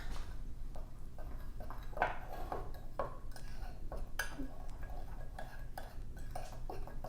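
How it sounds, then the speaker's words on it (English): Chocolate mug cake batter is stirred in a mug, a steady run of soft scraping and light spoon taps against the mug, close up and fairly quiet, with no voices. "Then we just kind of take it, mix it together."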